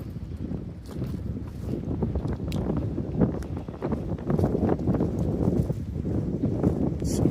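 Strong gusts of wind buffet the microphone outdoors on a brisk North Austin day at a disc golf course, a steady, loud rumbling roar that swells and surges throughout with no one speaking.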